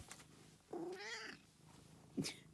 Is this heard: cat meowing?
yes